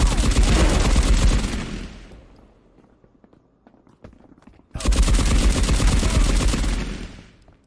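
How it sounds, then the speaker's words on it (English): Rapid MG 42 machine-gun fire in a video game, rendered as a weapon standing in for a pistol: two loud sustained bursts of dense automatic shots, each lasting about one and a half to three seconds, separated by a quieter pause. "My pistol became an MG."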